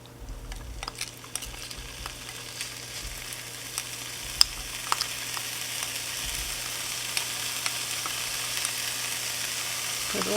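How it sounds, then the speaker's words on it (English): Chopped onion and garlic sizzle in hot oil over medium heat, a steady crackling fry with occasional clinks and scrapes of stirring throughout. "now the next step is to put the onion and the garlic into the oil."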